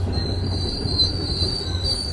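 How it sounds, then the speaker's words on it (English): A passing train squeals loudly and continuously from its wheels against the rails, a sustained high whine over a low, rolling rumble, close and with no voices. "Michael Fisher talking over the train noise to see how the two devices deal with sound."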